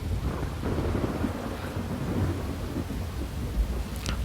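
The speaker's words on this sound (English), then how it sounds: "Oh, that thunder's loud." Loud, deep thunder rumbles on and off over steady heavy rain during a tornado storm with large, destructive hail in Hazleton, with no voices.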